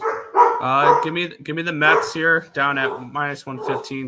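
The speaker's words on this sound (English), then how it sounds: "Sorry about the dogs." Several dogs bark and yip in the background of a home, running beneath steady, continuous talk from a man discussing baseball bets.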